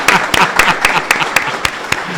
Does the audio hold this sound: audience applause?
yes